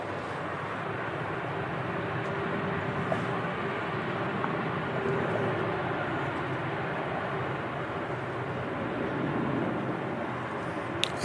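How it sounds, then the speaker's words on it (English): A Ryanair airliner departing Manchester Airport gives a steady, broad jet roar heard from a distance, even and sustained throughout with no talking. "Southside Ryanair heading to Palma de Mallorca"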